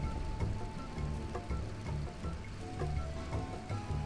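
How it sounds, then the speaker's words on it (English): Steady rain falls in the video game Final Fantasy XI, a soft continuous patter with scattered drips, moderately quiet and with no voices over it. "Of course, it's raining."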